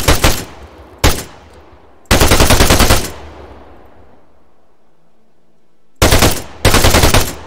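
Automatic weapon fire in the military shooter Arma 3, loud sustained bursts with gaps between them and a decaying echo tail after each burst, no talking.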